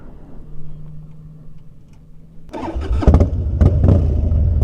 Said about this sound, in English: Fires right up now with a new battery.